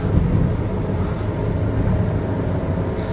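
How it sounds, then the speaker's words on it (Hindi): A car cruising steadily at around 100 km/h gives a continuous, fairly loud low engine and road rumble with broadband hiss, heard from inside the cabin with no talking. "ऐसी आवाज मैंने किसी भी इंजन से सुनी नहीं है इस रेंज की गाड़ियों में।"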